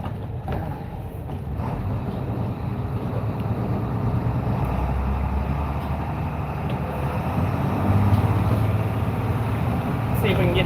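A truck engine pulls up through the gears into second, a steady, loud low drone with a slight rise in pitch toward the end, while someone talks over it.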